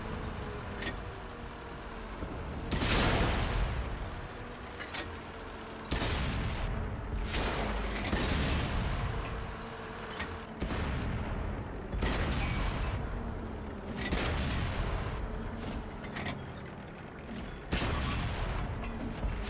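Tank cannon fire and explosions from a World of Tanks console battle against a tank destroyer, a series of heavy booming shots every couple of seconds over a constant rumbling engine drone, loud and close with no voices.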